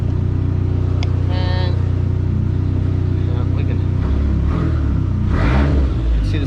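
A Dodge Neon SRT-4 with about 142,800 miles and rust idles steadily up close, its engine droning low while the wheels spin freely in neutral, with brief clatter and a small rev near the end.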